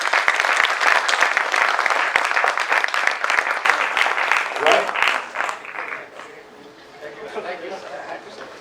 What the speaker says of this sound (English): So you all of you really deserve a round of applause for doing it.